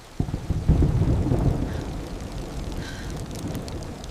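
Steady rain pours down with a deep rumble of thunder rolling through, loud and continuous, no voices.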